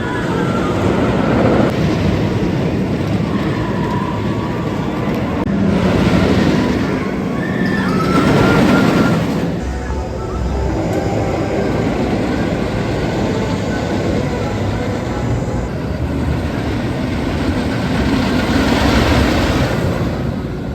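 The Superman the Ride roller coaster at Six Flags New England roars past, a loud sustained rumble and rattle of the train on the track that swells and fades in waves, with wind noise throughout.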